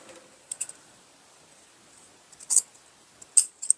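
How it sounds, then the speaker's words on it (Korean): Scissors snip through the seam allowance of a denim jacket in a few short, sharp, close cuts separated by quiet pauses, two small clusters of snips toward the end. "시접을 잘라낼 겁니다"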